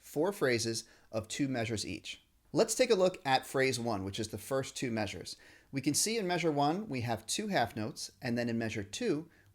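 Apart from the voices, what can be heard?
No everyday noises stand out.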